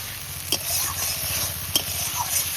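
Prawns stir-fried in a spice paste in a pan, giving a steady loud sizzle with a couple of sharp spatula scrapes against the pan and no talk.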